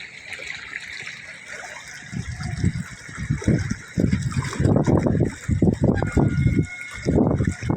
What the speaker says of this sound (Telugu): చూడండి ఎట్లా ఉంది నురుగు, ఎట్లా వస్తుంది చూడండి.